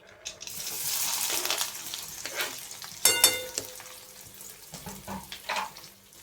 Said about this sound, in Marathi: आपली मोहरी तडली. आता आपण कांदा घालू त्याच्यामध्ये.